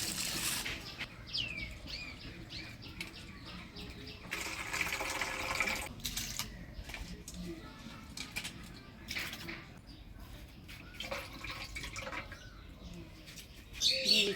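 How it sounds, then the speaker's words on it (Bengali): Masoor lentils are swished and rinsed by hand in water, with soft splashing and trickling in uneven bursts, a louder pour near the middle and a brief splash at the end. "তো ডালটা ধুয়ে নিই।"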